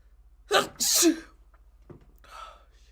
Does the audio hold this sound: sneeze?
yes